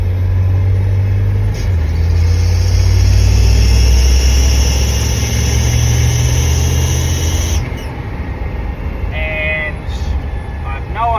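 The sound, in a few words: squeaky noise from Land Rover Defender, gearbox or boost actuator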